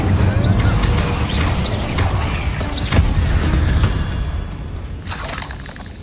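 Incendio fire spell cast repeatedly in the video game Hogwarts Legacy, loud crackling bursts and crashing impacts in a catacomb, with dense rumbling effects throughout and sharper flares around the middle.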